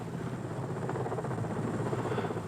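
A helicopter flies close by, its rotor producing a steady rapid thudding chop and dense engine drone, loud and continuous, with no one talking.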